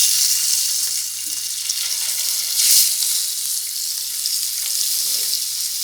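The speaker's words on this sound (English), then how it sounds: "I am going to fry the eggs." Eggs frying in oil in a pan for egg gravy give a steady, loud, close sizzle with brief bursts of crackle, heard alone without any talk.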